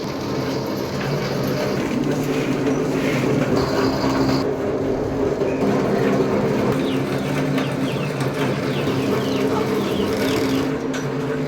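A traditional wooden marachekku cold press grinds chana dal for oil, giving a steady, loud, continuous rumbling drone with a rhythmic creaking mechanical texture throughout, with faint bird or rooster calls in the background and no talking.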